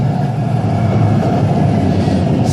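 A train rumbling past in a city neighborhood lined with old repurposed buildings, a steady low roar that holds at constant loudness throughout with no pauses.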